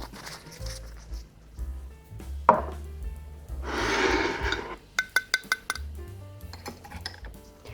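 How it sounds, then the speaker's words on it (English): Vegan cake batter whisked by hand in a large bowl, heard as a quick run of bright rhythmic clinks of whisk against bowl amid scattered kitchen clatter and a breathy rush of noise. "You really just have to mix it by hand in a large bowl with a whisk"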